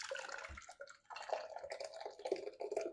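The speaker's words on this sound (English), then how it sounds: "So we're just going to take that over to our jug and very carefully pour it in." Cooking liquid from a pressure cooker, left from making native tamarind jam, is poured carefully into a jug, with faint uneven trickling and dripping, close by and without speech.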